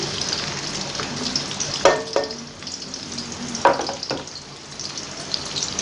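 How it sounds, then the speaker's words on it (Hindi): Finely chopped medium-size onions fry in oil in a kadhai wok, giving a steady close sizzle broken by a few sharp bursts of stirring. "मैंने कढ़ाई में ऑयल डाल लिया है। इसमें बारीक कटी हुई मेरे पास मीडियम साइज़ की प्याज थी, मैं वो डाल दूँगी।"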